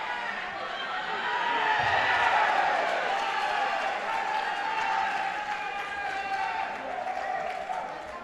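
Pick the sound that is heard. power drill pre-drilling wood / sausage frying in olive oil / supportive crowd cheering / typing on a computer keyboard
supportive crowd cheering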